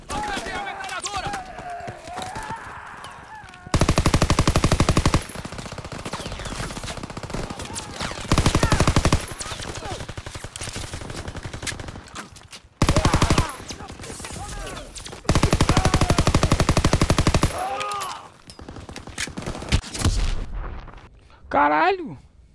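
Machine-gun fire on a bombarded D-Day beach in Call of Duty WWII, arriving in several long, loud, rapid bursts, with shouting voices and battle noise between them.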